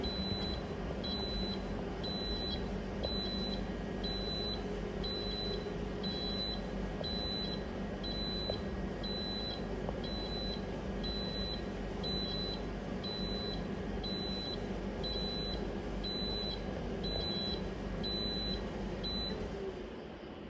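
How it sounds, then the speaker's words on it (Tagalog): A power inverter alarm beeps steadily as its LiFePO4 battery runs down while powering an air conditioner, about one short high tone per second for the full stretch, over a continuous low fan-like hum. "Mga kasolar, nag-a-alarm na yung inverter."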